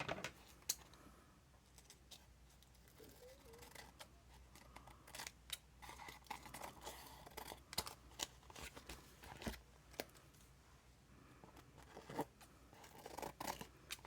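Scissors trim tissue paper in a string of sharp, close snips and papery rustles, irregular and spaced through the stretch, with a quiet background between cuts.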